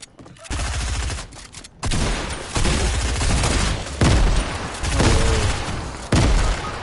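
Rapid gunfire bursts and grenade blasts fill a shooter video game match, loud and dense with repeated volleys and sharp booms across the whole stretch, with only brief lulls between bursts.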